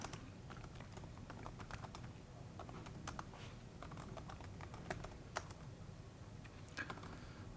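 Continuous quick typing of commands on a computer keyboard, with soft, rapid, steady keystrokes close by and low in level, with no talking.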